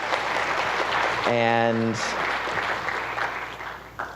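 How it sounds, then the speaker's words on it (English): Audience applause at a fall forum on race and social identity in the classroom, a dense, steady clatter of clapping filling the room throughout, with a brief spoken word rising above it partway through. "a wonderful round of applause"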